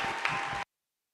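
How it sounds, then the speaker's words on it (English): A church audience applauds for Elizabeth, a short burst of dense clapping that cuts off abruptly after well under a second. "can you give a round of applause to Elizabeth?"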